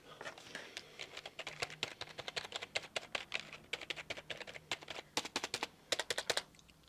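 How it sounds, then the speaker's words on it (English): Rapid typing on a computer keyboard, a close, quick patter of key clicks with short pauses and no voices. "just to give you a rough idea what a traditional keyboard sounds like"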